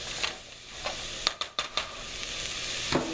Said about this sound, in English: We got this sauteing up pretty good.